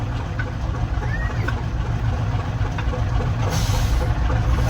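Engine of a 1966 Kenworth Dart truck while backing up, a steady low diesel rumble close by, with a few faint clicks and squeaks over it.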